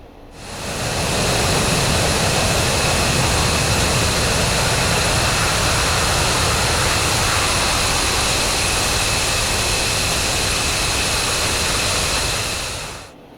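F-15E Strike Eagle jet engines in the DCS flight simulator, a steady, loud broadband roar with a high turbine whine that holds for about twelve seconds, alone, fading in and out at the ends.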